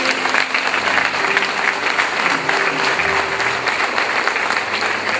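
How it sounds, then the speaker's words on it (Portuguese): A church congregation applauds steadily and loudly, a dense wash of clapping from many hands that holds even throughout with no pauses. "Aplauda ele por isso."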